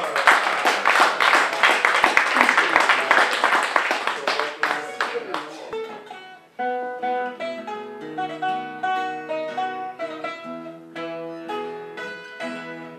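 An audience gives a burst of applause for the musician, dense clapping that thins out after about six seconds as instrumental music and singing begin.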